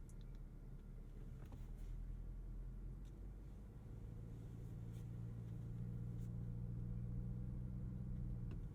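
A 2021 Lamborghini Urus idling low while reversing, a deep steady engine rumble that swells slightly in the second half, heard from inside the cabin with faint clicks.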